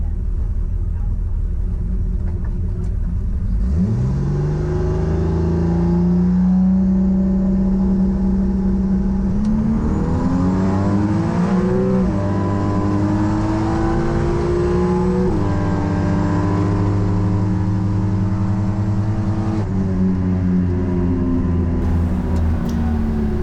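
A 1981 Ford Fairmont drag car, a street car running in the nines, accelerates hard down the strip. Its loud engine roar climbs steadily through several gear shifts, with a brief voice near the start.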